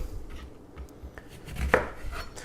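A knife chops a lemon into large chunks on a cutting board, a few soft irregular thuds close by, with no talking.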